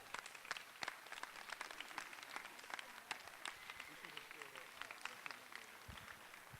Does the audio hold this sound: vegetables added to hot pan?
no